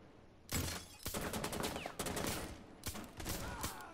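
Rapid pistol shots striking a shield in Rainbow Six Siege, a burst of sharp cracks and metallic impacts in quick succession with short gaps, loud and close.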